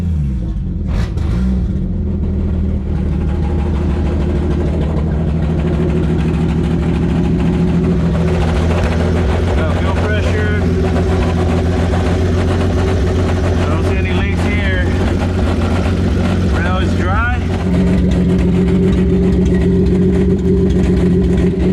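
A Toyota Supra MKIV engine, freshly fitted with a fuel pressure regulator and inline fuel filter, starts and idles steadily with a strong low rumble throughout, while someone talks over it.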